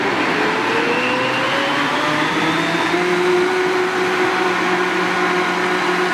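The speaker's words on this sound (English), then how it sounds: "this Vitamix is pretty awesome, and it just turns everything into goo" A Vitamix blender whirs steadily while blending a green superfood smoothie, a loud continuous motor roar with a rising pitch as the contents smooth out, close up with no talking.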